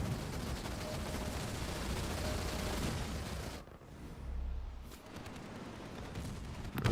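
Hawk aircraft fire on an anti-vehicle turret in the Halo Wars 2 strategy game, a dense continuous barrage of gunfire and booms that drops briefly before resuming, with no talk.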